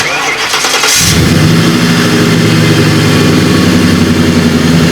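A V8 car engine cranks and catches at about one second, then settles into a loud, deep, rumbling idle that continues steadily to the end.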